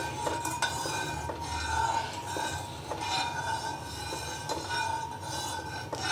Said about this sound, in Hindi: हम इसको कंटिन्यूसली चलाते रहेंगे, क्योंकि हमें पूरे दूध का टेम्परेचर एक जैसा चाहिए।